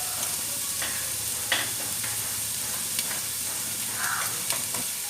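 Onions frying in oil in a pan, giving a soft, continuous sizzle and hiss close by, with a few faint clicks and stirring touches and no talking.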